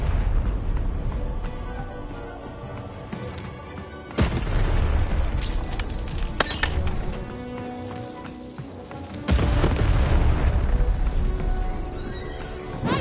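Deep booming blasts of a cannon going off twice in the video game Lost in Random, each a sudden loud thud followed by rumbling game sounds, horse whinnies and hoofbeats.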